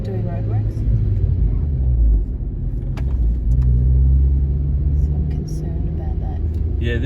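A manual stick-shift car in a driving lesson climbs a hill on a bumpy road under roadworks, its engine rumbling low and steady inside the cabin, with people talking over it.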